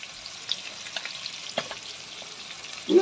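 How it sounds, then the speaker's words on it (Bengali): Food frying in a pan with a soft steady sizzle and scattered small crackles and pops, ending in a louder burst. "ফটফট করে ফাটছে"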